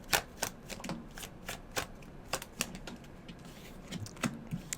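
A deck of tarot cards being shuffled up close, a steady run of crisp riffling flicks and snaps with quick bursts of card slaps, fairly loud and with no one speaking.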